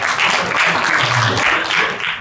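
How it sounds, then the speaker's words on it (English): Audience applause at a university lecture on tourism innovation, steady dense clapping throughout, close and loud, with faint voices mixed in. "give him applause."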